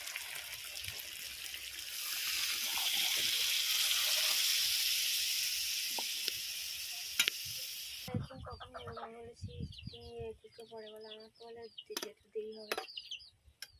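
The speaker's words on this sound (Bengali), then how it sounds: "এবার আমি এতে জল ঢেলে দেবো।" Water is poured into a frying chicken liver curry, raising a loud hiss that swells and fades over several seconds before it cuts off. A voice then speaks against a background of chirping birds.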